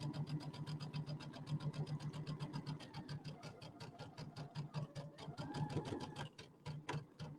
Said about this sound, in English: I am sewing on a Brother Luminaire.